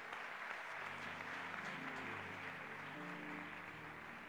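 A church congregation applauding at a sermon on marriage, a steady wash of many hands clapping in a room, held at an even level for several seconds, with faint voices underneath.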